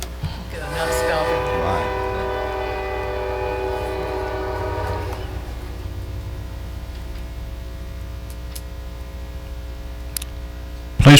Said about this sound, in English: Let's let the train go by.